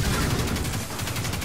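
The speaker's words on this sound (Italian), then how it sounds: "spariamo con l'arma che non finisce mai i colpi, però ha un rinculo troppo elevato" Continuous rapid gunfire from an unlimited-ammo, high-recoil weapon in the Destiny 2 beta video game, loud and dense throughout with no talking.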